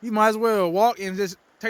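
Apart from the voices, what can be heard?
No everyday noises stand out.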